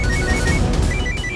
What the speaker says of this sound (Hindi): प्रथम का फोन